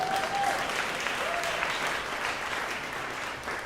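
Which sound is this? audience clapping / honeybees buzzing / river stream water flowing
audience clapping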